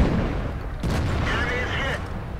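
Tank cannon fire in World of Tanks, fired at a Leopard 1, comes as a dense, booming burst of game battle noise. It lasts throughout with a sharp onset near the middle, and a voice talks over part of it.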